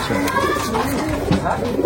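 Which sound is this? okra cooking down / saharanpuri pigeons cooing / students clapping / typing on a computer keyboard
saharanpuri pigeons cooing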